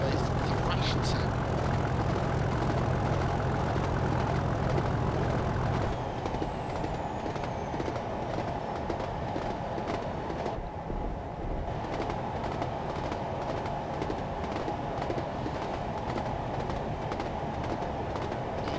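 Class 37 diesel locomotive in Train Simulator 2016 on the Wherry Line to Lowestoft, a loud continuous thrashing engine drone that drops in intensity partway through, with faint rail noise.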